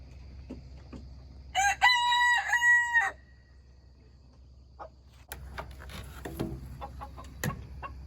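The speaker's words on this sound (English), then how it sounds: "is it because he's a protective rooster?" A single rooster crows once, loud and clear, for about a second and a half, with quiet background and faint scattered clicks afterward.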